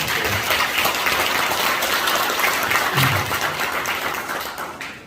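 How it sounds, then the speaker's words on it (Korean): An audience at a political party academy event in Gwangju applauds to welcome a National Assembly member, a thick, sustained burst of close clapping that stays loud before tapering off near the end. "위원장님 박수 한번 쳐주시죠"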